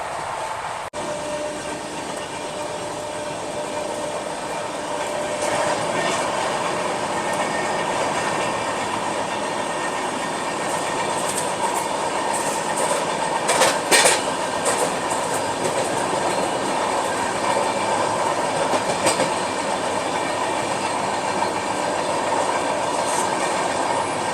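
Ranchi Rajdhani Express running on rails, heard from inside the moving train as a steady loud rolling roar with rhythmic clickety-clack from the wheels and brief sharp squeals midway, continuous throughout with no talk.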